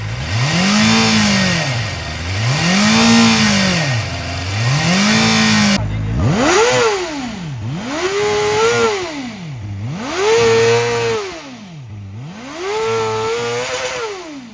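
A KOVE 450RR motorcycle engine blips repeatedly at low rpm, each rev rising and falling in a steady rhythmic pattern of about a second apiece, loud and close, with no talk over it.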